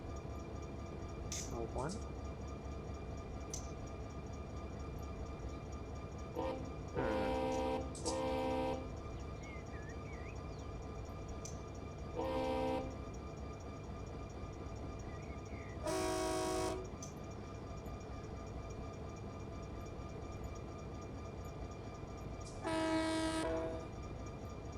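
Diesel horn blasts from SD40-2 locomotives in the Run 8 Train Simulator game, several loud bursts of a few seconds each sounding over a steady engine rumble, with someone talking between them.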